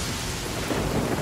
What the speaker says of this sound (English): Stay out in the rain for too long.